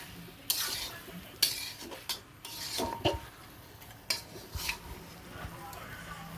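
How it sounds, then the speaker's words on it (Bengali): Spoon stirring meat and masala in a cooking pot, faint scraping and intermittent metallic clinks against the pot sides with soft rubbing in between, close and quiet. "ভালো করে নাড়ছি আমি ভালো করে নেড়ে চেয়ে নেবো তাহলে মশলাটা চারপাশে ভালো চলে"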